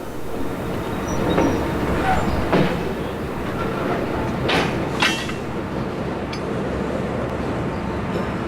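Freight train hauling cars behind an SD60I diesel locomotive passes nearby with a steady rumbling roar and rail noise, a few sharper clanks and screeches rising briefly midway, running continuously throughout.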